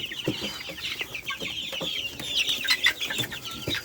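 A flock of 50-day-old chickens clucking and chattering continuously at close range on a poultry farm, overlapping calls throughout with no one speaking.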